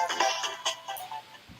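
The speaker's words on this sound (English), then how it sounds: "That sounds like a phone." Phone ringtone chiming briefly in a room during a livestream, a short melodic tone sequence of a few notes, fairly faint and alone without talk over it.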